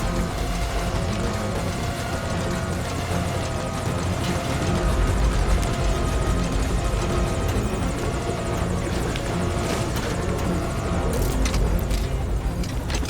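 A helicopter roars in a video game, a loud, dense and continuous rotor and engine drone that fills the whole stretch with no pause.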